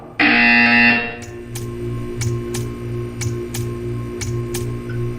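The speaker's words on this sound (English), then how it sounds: "You will hear a buzzer." In the game Portal 2 a harsh electronic buzzer blares for about a second, followed by a steady run of sharp ticking clicks over a low pulsing hum.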